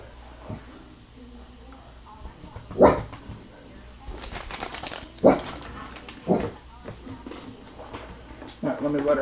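A dog barks and whimpers indoors in short, irregular bursts of sharp yelps and whines, fairly close, with speech heard intermittently around them.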